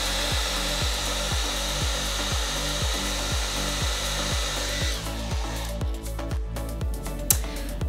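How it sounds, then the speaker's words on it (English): A hair dryer blows with a steady loud whoosh and a pulsing motor hum, joined near the end by some rattling and clattering. "We're just gonna take a hair dryer and we're just gonna pretend that it's windy."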